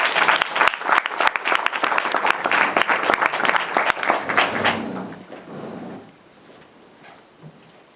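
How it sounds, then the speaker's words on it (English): An audience at a poetry performance applauds loudly with dense clapping for about five seconds, then it fades away into quiet room noise. "Now you can clap then."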